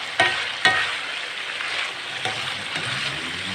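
Ginger garlic paste hits hot ghee or oil in a Peshawari chicken karahi, giving a dense, steady sizzle with a couple of sharp clinks of a spoon against the pan near the start and no talking.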